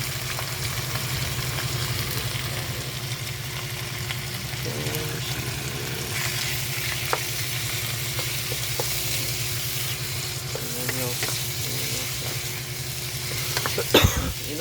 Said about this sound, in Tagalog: higisa natin siya